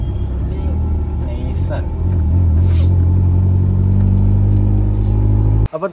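A modified Maruti Zen's engine gives a loud, steady low rumble that swells and holds stronger partway through, then cuts off abruptly at the end.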